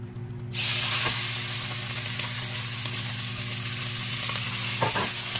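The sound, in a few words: seasoned shrimp added to hot oil in pot, sizzling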